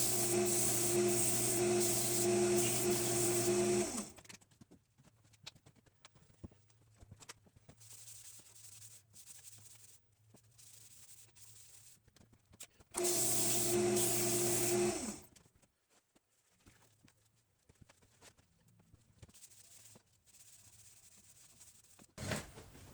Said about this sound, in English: give it a little sanding.